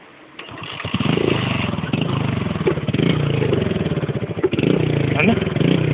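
A motorcycle engine idles steadily after starting, a close, continuous low rumble with a regular throb, while people talk over it.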